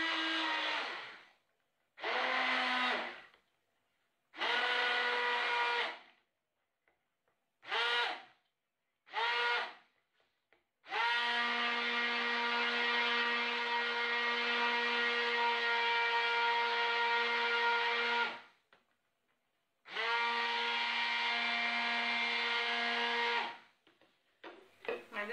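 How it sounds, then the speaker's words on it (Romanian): Immersion blender running in bursts as it mixes natural bay leaf soap made by the cold process: short pulses at first, then a long steady whir of about seven seconds, a pause, and another sustained run, loud and close with no talking. "cu mixerul vertical este foarte ușor de făcut și se face foarte repede"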